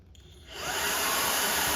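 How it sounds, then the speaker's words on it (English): A robot vacuum's charging base running its automatic dust collection, a whooshing suction roar that ramps up quickly and then holds steady and loud. "That was the auto dust collection."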